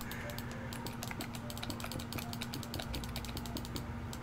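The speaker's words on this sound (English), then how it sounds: "He'll probably mention something about hearing my keyboard" Quick, fairly steady keystrokes on a computer keyboard patter softly across a constant background hum, forming a dense run of clicks with brief gaps.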